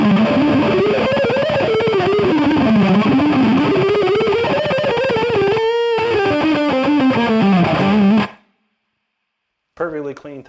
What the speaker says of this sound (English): this is my delay and reverb right here. So now we got complete tone.